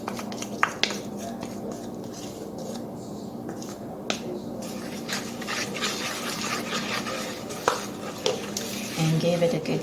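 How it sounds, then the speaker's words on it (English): A spoon stirs heaped cinnamon and oatmeal into a sourdough bread mixture for oatmeal raisin bread, with soft scraping and a few sharp clicks against the bowl and a person talking nearby. "give it a good stir"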